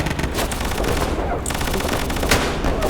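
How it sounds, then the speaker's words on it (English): Sustained machine-gun fire from a World War II tank battle in a Volga River crossing game match, rapid continuous bursts filling the whole stretch at steady loudness with no pauses. "But the machine gun is still going."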